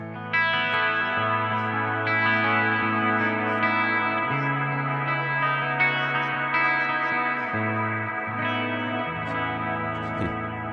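An electric guitar runs through a Neural DSP Nano Cortex on preset 1B, playing sustained chords that ring into one another. A long reverb tail lets each change of chord wash over the last, with no talk.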